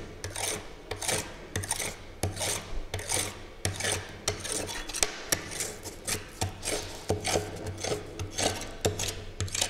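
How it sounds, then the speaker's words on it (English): A magnet rubbed repeatedly along an iron bar in one direction, giving a steady series of rasping strokes at a regular rhythm, close and fairly loud, with no talking. "you have to rub it from the A to B. You have to rub it for 20 to 30 times."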